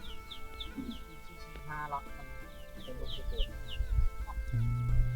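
Chickens clucking and calling in a remote mountain village without electricity. Repeated short clucks and chirps sound close by, with a rooster-like call and rustling, and someone speaks over them.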